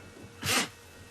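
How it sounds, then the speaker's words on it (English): A lioness gives a single sharp, breathy sneeze nearby, short and forceful, with quiet surroundings before and after. "There's a big sneeze from one of the lioness"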